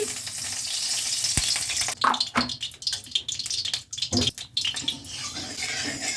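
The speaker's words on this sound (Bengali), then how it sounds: "আমি তেলাপিয়া মাছটা কড়াতে ছেড়ে দিলাম।" Tilapia fish sizzles and fries in hot mustard oil in a wok, a steady close crackling hiss with a few sharper spits and bursts partway through, no voices.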